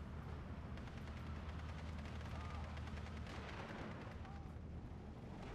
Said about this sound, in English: 60mm mortars are constantly firing.